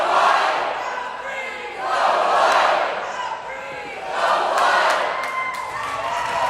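Crowds at an ultimate frisbee match between Michigan State and Grand Valley State cheer and chant in rising and falling waves, with shouts swelling roughly every two seconds.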